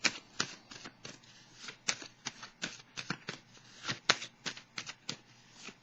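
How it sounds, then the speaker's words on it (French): Tarot cards are shuffled, flicked and laid down in quick, irregular bursts of crisp papery slaps and riffles, close and fairly quiet, with no talking. "je vais vérifier, je vais déposer une carte"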